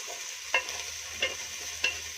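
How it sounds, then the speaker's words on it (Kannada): Chopped coriander leaves fry in oil with a soft, steady sizzle, while a spoon scrapes the pan in three distinct, evenly spaced strokes; quiet, with no talking. "ಈಗ ನಾನು ಆವಾಗಲೇ ಕಟ್ ಮಾಡಿ ಇಟ್ಕೊಂಡಿರೋ ಕೊತ್ತಂಬರಿ ಸೊಪ್ಪನ್ನ ಹಾಕೋತಾ ಇದ್ದೀನಿ. ಇದನ್ನ ಸ್ವಲ್ಪ ಫ್ರೈ ಮಾಡ್ಕೊಳ್ಳೋಣ ಎಣ್ಣೆಲಿ"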